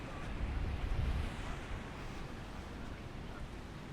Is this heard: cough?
no